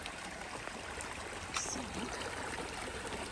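Stream water flowing at a rock-hop crossing on the Appalachian Trail, a steady broadband rushing and trickling that runs continuously throughout, close by and moderately loud, with a brief spoken word at the start.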